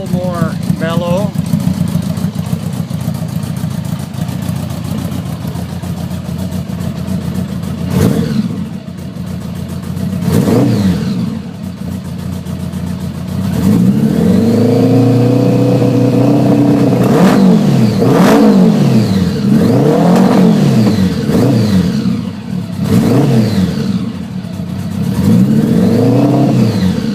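A 1976 Honda Goldwing with small exhaust cans, still cold, revs repeatedly from idle, its engine rising and falling in a series of loud, close blips, with several quick revs bunched together in the second half.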